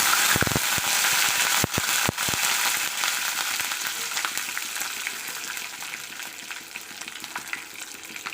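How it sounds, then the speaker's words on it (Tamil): Cumin, dried chilies and curry leaves frying in hot oil for idli sambar give a loud, dense crackling sizzle, with a few sharp pops near the start, gradually easing in level. "இதில் 2 காஞ்ச மிளகாய், கொஞ்சோண்டு கருவேப்பிலை தழையும் இதில் ஆட் பண்ணிப்போம்."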